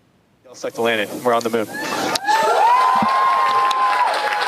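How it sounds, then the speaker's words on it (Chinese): Mission control staff at a private company cheer and clap after a NASA-contracted lunar lander touches down on the Moon; a broadcast voice speaks first, then a dense, sustained wash of crowd cheering follows. "控制中心内底发出欢呼声，宣布登月器成功伫月球降落"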